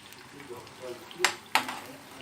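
Green pepper frying in hot oil in a pan, a faint steady sizzle with two sharp clinks of a utensil against the pan, under quiet background.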